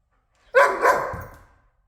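A dog gives a single loud, close bark that trails off quickly, alone in an otherwise quiet home kitchen.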